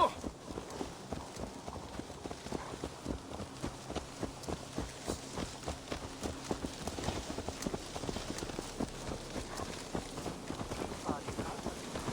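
Horse hooves clip-clop steadily in the Assassin's Creed Valhalla video game, a regular trotting rhythm of soft thuds carrying through the whole stretch at moderate level beneath a faint game ambience.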